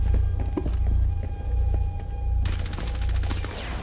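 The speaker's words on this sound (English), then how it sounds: "series of bullets" Bursts of rapid gunfire in the video game Rainbow Six Siege, sharp repeated shots on a Hereford Base hostage match, loud and close, with a denser automatic volley in the final second and a half.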